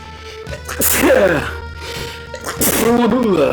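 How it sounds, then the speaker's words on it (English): A sharp, breathy sneeze bursts out loudly twice, once near the start and again later, with voiced sounds around it, heard during a PC playthrough of the original Final Fantasy VIII. "That's a crazy sneeze."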